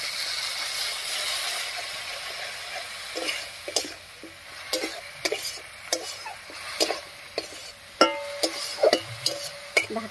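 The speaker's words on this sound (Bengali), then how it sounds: "এবার একটুখানি মশলা বাটা জল দিয়ে কষিয়ে নেব" Dried lote fish with garlic, spice paste and a splash of water sautéing in a pan: a gentle sizzling hiss at first, then a run of sharp, close spatula scrapes and taps at an irregular pace.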